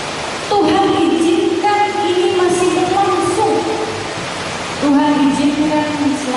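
Steady rain falls with a dense, even hiss throughout, while a voice carries on over it in sustained, sung or drawn-out tones.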